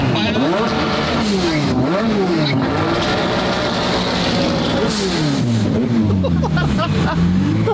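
A 1300 whp McLaren 720 GTR roars while driving, its engine loud and close as it revs up and down through rising and falling sweeps, with people talking faintly underneath.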